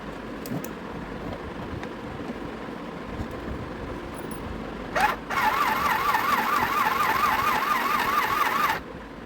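A small mini sewing machine runs for roughly three and a half seconds after a brief knock, its close, steady motor whirring with a quickly wavering, warbling pitch.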